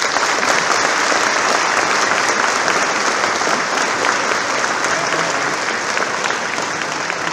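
Audience applause at a municipal New Year's greetings ceremony, sustained, dense clapping from a large crowd at an even level throughout.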